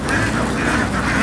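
A huge flock of about ten thousand laying ducks heads back to its pen, producing a dense, continuous wash of overlapping quacks that is loud and close, with no clear break.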